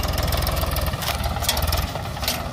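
A tractor engine idles nearby on a raised road, a steady low throbbing rumble with a regular knocking pulse, fairly loud and with no voices over it.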